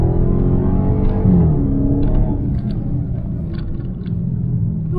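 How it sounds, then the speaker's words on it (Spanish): A Dodge Charger Hellcat accelerates hard, a deep, loud engine rumble with a rising whine that eases into a steady drone heard from inside the car, with no voices. "demostrar la aceleración aquí no está prohibido"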